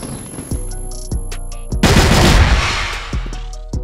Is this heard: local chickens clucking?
no